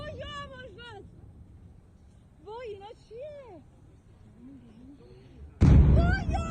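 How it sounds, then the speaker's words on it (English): Excited voices shout over a low rumble at a street protest in Iran, then a sudden loud blast hits near the end, like a heavy explosion close by. "Those are heavy explosions."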